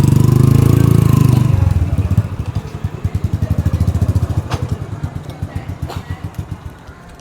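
A motorcycle engine idles loudly up close with a steady, throbbing putter while the bike is parked in a Karachi street, a louder rev at the start settling into an even idle that gradually fades.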